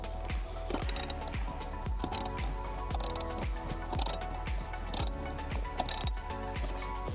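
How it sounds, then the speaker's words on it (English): A ratchet with a 10mm socket loosens bolts in a Jeep Wrangler interior, giving rapid clicking bursts in a steady repeating rhythm of about one stroke per second, close and clear. "you use a 10mm socket to remove the bolts"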